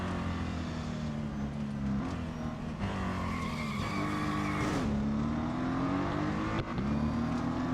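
Race cars in Real Racing 3 on a Formula E circuit, a steady loud engine drone with shifting pitch as they brake and accelerate, tires squealing through corners throughout.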